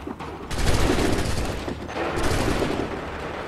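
Musket volley fire in the Assassin's Creed 3 video game, a dense loud burst of overlapping gunshots rolling into sustained battle noise, with a second swell of firing about halfway through.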